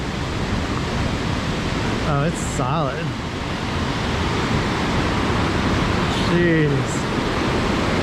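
Loud, steady rushing water of the South Puyallup River flows beneath a wooden bridge on a Mount Rainier hike, a broad roar filling the whole clip while a few short exclamations cut in over it.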